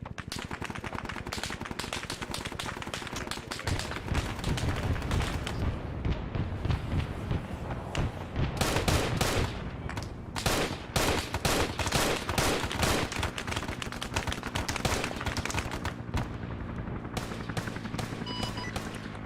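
Arma 3 military simulation set in the Vietnam-era SOG Prairie Fire setting: dense, continuous small-arms and machine-gun fire with overlapping bursts and sharp cracks, loud and unbroken for the whole stretch.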